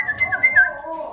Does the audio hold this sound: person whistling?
yes